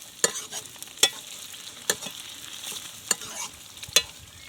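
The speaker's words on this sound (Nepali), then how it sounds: "अब यहाँ पकाउन सुरु गरिसक्यौँ" Meat and onions fry in a pan, with a continuous sizzle. About five sharp scraping strokes of stirring cut through it at a steady pace. The sound is close, with no voices.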